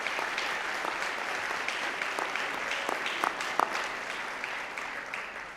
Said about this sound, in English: So how about a round of applause again for them?